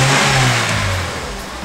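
A Vauxhall Corsa 1.2 engine runs just after a spark plug change, a loud steady mid-pitched hum with a brief rev that eases toward a smooth idle, close up and with no one talking.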